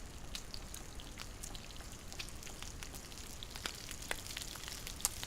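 Soft crackling and sizzling from food cooking over a fire in the survival game The Long Dark, with a steady faint patter of pops and snaps throughout and one sharper crackle near the end.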